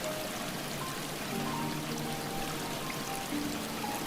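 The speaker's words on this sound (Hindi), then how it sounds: "तभी उसके गालों पर कुछ बूंद टपकती है।" Cartoon water drops dripping from a tree onto a cobra's cheek, a steady wet trickling and pouring wash with faint dripping tones, continuous and moderately quiet throughout, no voices.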